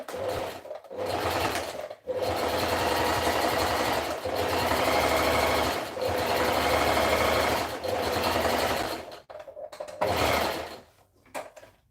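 Sewing machine runs zigzag stitches on pants fabric in several loud bursts of rapid mechanical whirring, separated by short pauses, with a softer stop-start at the end.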